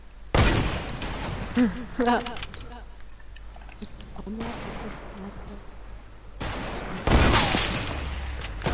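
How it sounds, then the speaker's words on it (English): Sniper rifle shots in the video game Fortnite hit as a few loud, sudden blasts spaced seconds apart, while someone talks excitedly in between. "I just got double sniped"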